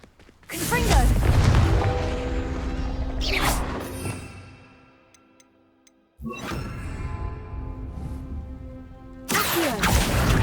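Booming spell blasts from the fire spell Confringo in the video game Hogwarts Legacy, a loud explosion with a long rumbling tail, a quieter lull with small ticks, then more crashing bursts.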